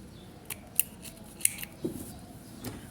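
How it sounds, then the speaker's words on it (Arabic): Scissors snipping off excess sewing thread while a summer gandoura is sewn, several quick, crisp close-up snips spaced irregularly, quiet and alone. "نقص هذا الزائد، نقص الخيط"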